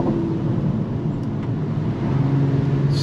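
Mercedes-Benz C43 AMG cabriolet, 362 hp, driven down a twisty road in Sports Plus mode, with a steady, close engine and road drone that swells slightly toward the end.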